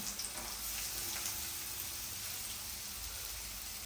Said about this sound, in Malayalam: എണ്ണ ചൂടായിട്ടുണ്ട് നമുക്ക് പച്ചമുളകും ഉള്ളിയും കൂടെ ചേർക്കാം